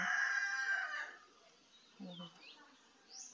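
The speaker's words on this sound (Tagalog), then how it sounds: "May manok pala kami guys, hindi pala sa amin yan guys." A rooster crows once up close at the start in a loud, drawn-out call, followed by a couple of short, fainter clucks or voice-like sounds over a quiet outdoor background.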